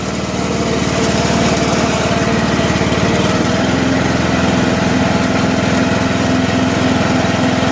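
A John Deere riding lawn mower engine runs close by, a loud, steady, even drone that holds throughout with no talking over it.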